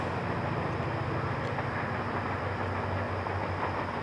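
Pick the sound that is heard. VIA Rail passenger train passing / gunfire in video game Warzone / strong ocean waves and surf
VIA Rail passenger train passing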